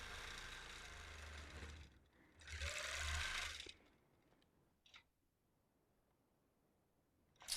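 A quilting machine stitches a Lone Star quilt in two loud whirring runs, falls quiet for a brief stop-start burst, then starts up again at the end.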